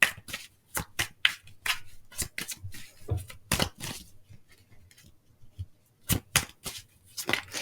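Playing cards handled and shuffled for a card reading, a run of crisp, close riffles and snaps in uneven bursts with short pauses between them.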